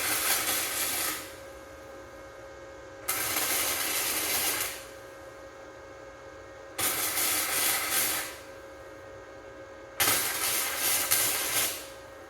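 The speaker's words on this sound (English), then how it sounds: "let's go ahead and run a bead here and one over on this side" Bursts of arc welding run a bead on travel-trailer steel, three to four sustained crackling hisses of a few seconds each separated by quiet pauses, close and moderately loud with no talking.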